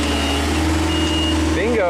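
A Genie lift with a faulty board that would not drive in reverse, started up and driving forward: a steady low motor hum with tonal whine, a brief rising warble near the end, and talk over it.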